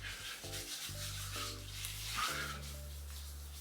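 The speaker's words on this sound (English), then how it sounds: "I just rub it all over my face" Skincare cleanser being rubbed over a bearded face makes a soft, continuous close-up rubbing and scrubbing sound under steady background music.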